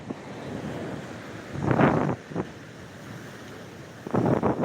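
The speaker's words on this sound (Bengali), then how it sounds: "আজ একেবারে সমুদ্র ফুলে উত্তাল হয়ে উঠেছে" Rough, swollen sea at Digha beach, with constant wind rumbling against the microphone and several louder surges of crashing surf close by, no speech.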